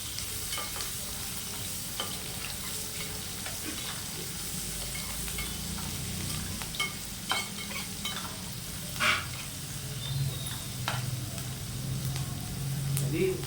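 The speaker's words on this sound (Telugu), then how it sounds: "ఉల్లిపాయలని మాడకుండా వేయించుకోవాలి." Finely chopped onion and green chillies fry in oil with a continuous close sizzle, broken by occasional scraping stirs and soft utensil knocks, while a voice talks faintly in the background.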